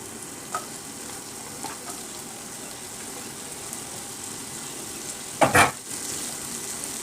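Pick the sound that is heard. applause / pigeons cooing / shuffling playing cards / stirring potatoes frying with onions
stirring potatoes frying with onions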